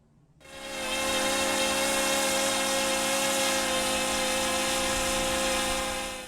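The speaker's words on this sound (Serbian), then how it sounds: "to znači da neki motor već previše snage koristi da bi ga propeleri održavali u vazduhu" A DJI Mavic drone's motors whine loudly and steadily, straining to hold the aircraft airborne in still air, a high buzzing drone with tonal harmonics starting abruptly after a brief quiet and holding constant to the end.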